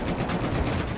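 Rapid burst-fire gunshots in the video game Battlefield 4, a dense, loud rattle of shots packed close together, filling the whole short moment with no talking.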